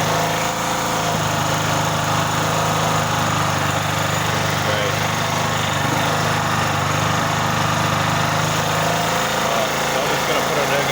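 A portable generator converted to run on LPG, its engine droning loud and close with a steady uneven throb as it surges, the pitch dropping near the end, with someone talking over it.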